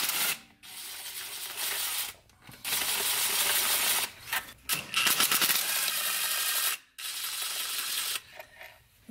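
A ratchet loosens the 8mm transmission filter bolts on a Ford Explorer with a 5R55W transmission, producing long, loud runs of rapid clicking broken by brief pauses between strokes, close up and without speech.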